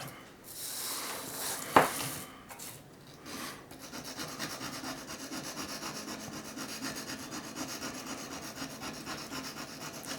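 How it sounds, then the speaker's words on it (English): Steady fine rubbing and rasping as the tip of a cheap ruling pen is honed and polished, close and quiet, with a sharp tap early on, then a continuous even scrape with no voices. "So I'm just going to keep polishing that."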